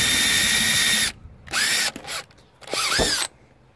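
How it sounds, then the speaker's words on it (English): A power drill bores out rivets on a BMW E36 coupe rear quarter panel, in three loud, close bursts of high whining at full speed that drop away between runs, with no talking. "so that's how you drill the rivets out."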